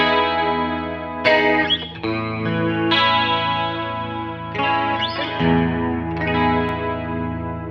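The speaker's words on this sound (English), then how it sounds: "next up we have the Trinity chorus" An electric guitar runs through the Trinity chorus on an HX Stomp, sustained chords swirling and shimmering with a few restrikes, heard alone and fairly loud.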